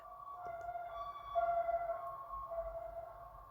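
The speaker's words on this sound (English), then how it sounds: "Hello, sirens." A faint, steady siren wails at a distance, its pitch rising and falling slightly over a low background rumble.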